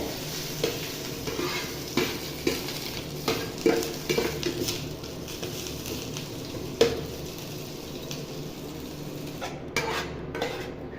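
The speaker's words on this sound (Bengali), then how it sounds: "এরকম 1 মিনিটের মধ্যে নিম পাতা ভাজা হয়ে যাবে, বেশি সময় লাগবে না নিম পাতা ভাজতে" Neem leaves fry in hot oil in a pan, giving a steady close sizzle with scattered clinks and scrapes of a utensil stirring against the metal, and nobody speaks.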